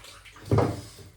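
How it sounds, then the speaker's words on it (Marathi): Poppy seeds being washed in water, a single short slosh and splash near the middle, close and brief against a quiet room. "आता याला मस्त आता धुवून काढतो मी पाण्यानं"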